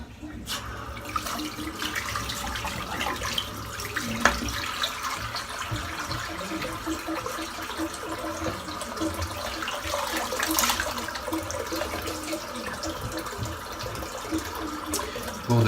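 Water emptying from a household sink, a faint continuous trickling and gurgling drain sound with occasional small clinks, steady throughout.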